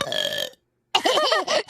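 A cartoon character's exaggerated belch, performed by a voice actress, comes as a long loud gurgling burp that warbles in pitch, with spoken lines and a short silence just before it.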